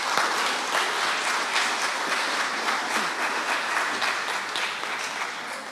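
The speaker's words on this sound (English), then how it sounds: "They deserve a round of applause." Audience of parents and teachers applauding a graduating junior school class at a ceremony, a steady sustained round of clapping from a large crowd throughout.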